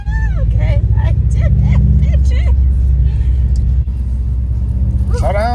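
A manual Subaru WRX STI engine rumbles loudly and steadily from inside the car as it pulls away after a gear change, with voices talking over the drone.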